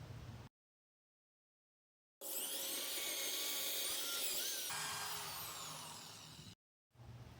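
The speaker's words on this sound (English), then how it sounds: "Next we'll drill the pilot hole and we'll line it up with that X that's marking the center of the stud." A power drill bores a pilot hole into a wall stud, whining loudly and steadily for about four seconds, its pitch shifting as the bit bites into the wood, between short moments of silence.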